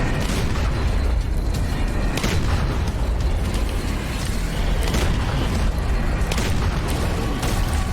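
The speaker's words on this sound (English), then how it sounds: "I'm like running into rockets that are coming down behind me" Rockets explode in a video game in a dense, loud, continuous barrage of booms and blasts that overlap, with no pause throughout.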